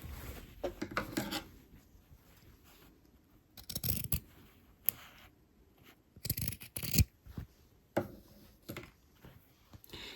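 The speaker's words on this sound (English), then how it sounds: "now I can come in here and cut out this extra piece back here" Scissors snip through leftover fabric binding during machine binding work, with several short crisp cutting bursts and soft handling rustles between them, close and fairly quiet, no talking.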